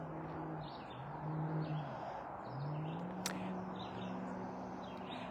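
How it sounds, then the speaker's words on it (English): Birds chirp and tweet in short repeated calls at a distance, over a low outdoor rumble like passing traffic. "I can hear the birds."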